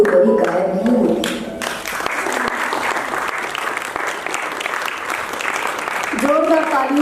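Audience applauding after a stage performance by actors, dense sustained clapping from a crowd with a voice speaking over it at the start and end.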